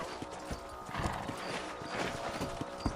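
Horses clip-clop at an unhurried pace across open ground in the Western video game Red Dead Redemption, with steady, moderately near hoofbeats and a brief whinny mixed in.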